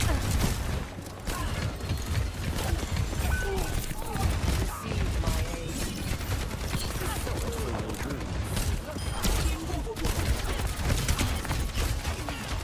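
Overwatch match with rapid gunfire, bursts and impacts layered over in-game sound effects, dense and continuous throughout, with a voice talking over the action.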